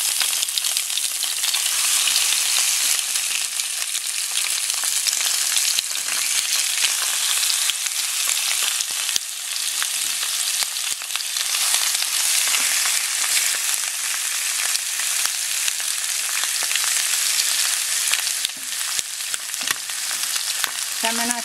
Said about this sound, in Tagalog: i-fry lang natin muna itong salmon